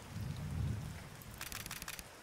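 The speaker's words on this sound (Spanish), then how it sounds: "¿Cómo se nota la lluvia, la que está cayendo ahora mismo?" Soft rain falls steadily in the Fabledom village-building game, a faint hiss with light patter and a low rumble, with no voices over it.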